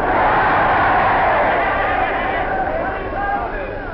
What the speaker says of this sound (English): I've got just as much right to be down in that crowd yelling as you have.